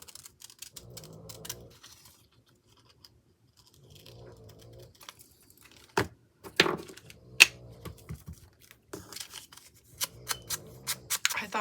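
Scissors snip paper for a craft page in close, quiet bursts of crisp cuts separated by pauses, with a few sharper clicks and rustles toward the end.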